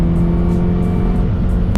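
Turbocharged Volkswagen Polo R WRC, a rally-inspired hatchback, revving hard past 7000 rpm, its engine note droning loud and steady and booming through the cabin, with no talk over it.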